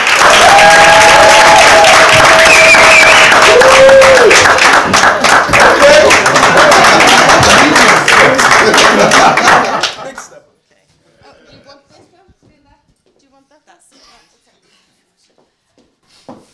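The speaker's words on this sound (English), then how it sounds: "So with a rapturous round of applause, please welcome Inga Nordin to the stage." Loud, rapturous applause from the audience at the InspireYour Confidence Summit 2025 welcoming a speaker to the stage, with whoops and cheers woven in, cutting off sharply into near silence after about ten seconds.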